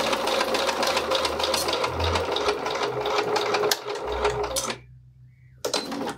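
A sewing machine stitches back and forth along a zipper, a fast close rattling hum with short pauses and a shift in pitch as it reverses, then stops briefly before starting again.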